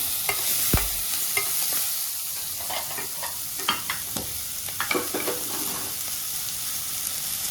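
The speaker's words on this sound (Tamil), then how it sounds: "நல்லா போட்டு எண்ணெயில் வதக்கிடுங்க" Small onions sauté in oil in a pan for potato bonda, a loud, close, continuous sizzle broken by frequent scraping stir strokes, with no one talking.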